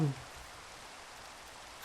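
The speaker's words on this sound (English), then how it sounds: "It's raining!" Steady rain falling in the Minecraft video game, a soft continuous hiss of drops that holds evenly throughout at a fairly quiet level, with a brief louder sound right at the start.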